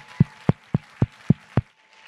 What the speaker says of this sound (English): Y'all clap it up one more time for PACEmakers